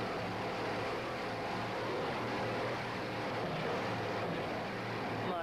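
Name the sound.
racing boat with powerful inboard engines running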